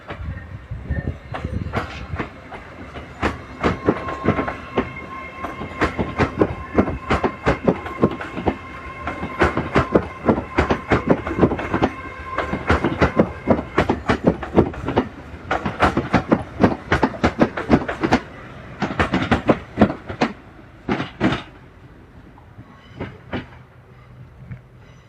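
A train pulling out of Crewe station on the West Coast Main Line, running about five minutes late, with loud rhythmic clickety-clack of wheels over rail joints building and rolling past, then easing toward the end.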